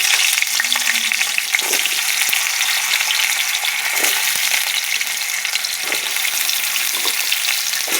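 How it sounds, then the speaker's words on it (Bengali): Loud, continuous sizzling and crackling of taro frying in hot oil, close by, with occasional faint clinks of a utensil. "তেল গরম হয়ে গেছে, দিয়ে দিলাম কচু।"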